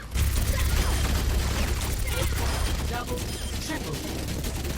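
Bastion's turret in Overwatch fires a continuous rapid stream of gunfire throughout, dense and loud, with a voice talking briefly over it.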